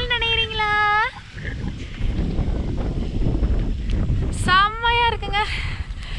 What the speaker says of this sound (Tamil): செம்மையா இருக்குங்க, செம்ம காத்து, மழை வேற அப்படியே லைட்டா தூறிட்டு இருக்கு